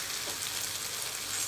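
Brinjal gravy sizzling in oil in a pan while being stirred, a steady soft frying hiss with faint scraping, quiet and continuous throughout.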